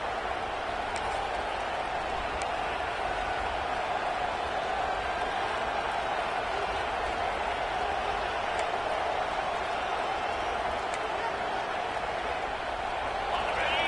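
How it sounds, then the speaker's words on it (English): Stadium crowd in the College Football 26 video game during an Auburn at Alabama matchup, a steady wash of distant cheering and roaring noise holding at an even level throughout, with no distinct peaks. "And the crowd coming to life here"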